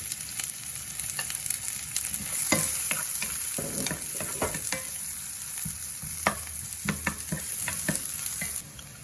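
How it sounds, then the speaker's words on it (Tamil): Onions with green chillies frying in a pan on a home stove, stirred repeatedly so sharp scraping clicks land over a steady close sizzle, with no talking. "வெங்காயம் கொஞ்சம் நல்லா வதங்கி வரட்டும்"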